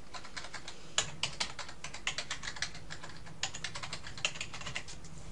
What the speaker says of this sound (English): All you need to do is type in your website that you're looking to have indexed.